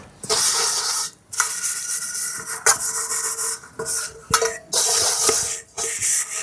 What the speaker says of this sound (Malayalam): ഇനി നമ്മളെ കുട്ടിപ്പട്ടാളങ്ങളുടെ പാത്രങ്ങൾ വെള്ളത്തിലിട്ട് വെച്ചിട്ടുണ്ട്, അതുകൂടി ഒന്ന് കഴുകിയെടുക്കട്ടെ.